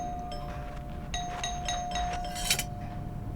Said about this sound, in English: And then one day my doorbell rang.